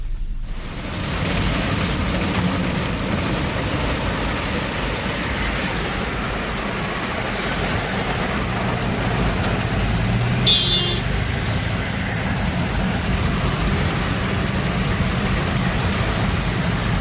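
Heavy morning rain pours over a flooded street in Palembang, a steady, dense hiss broken by passing vehicles swishing through water, constant and fairly loud throughout with no speech.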